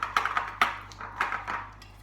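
A teaspoon taps and scrapes against a bowl and cake cases while dropping gluten-free fairy cake batter, giving several sharp, light clinks at an irregular pace, close and alone.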